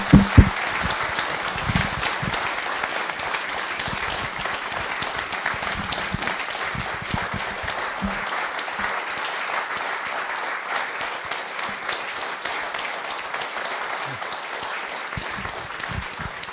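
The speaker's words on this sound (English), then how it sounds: "Let's give him another clap." An audience at a charity piano recital breaks into steady, sustained applause, many hands clapping in a dense, even wash that carries on without letup, with a few louder claps near the start.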